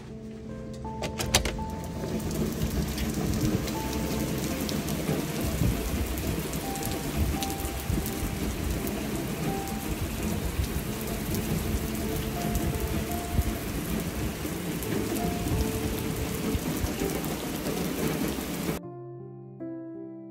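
Steady rain falls outdoors in the early morning, a dense, even patter that runs unbroken for about twenty seconds, with a low rumble like distant thunder beneath it and no talking.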